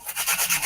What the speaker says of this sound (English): sanding stick here. This is my 1/100, which is pretty aggressive. I just want to take this glue down.